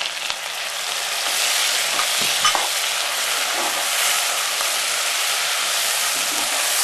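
Brussels sprouts hit a hot pan for a butter bean soup with a loud, continuous sizzle and hiss, broken by the soft scrape and shuffle of stirring, close and steady throughout.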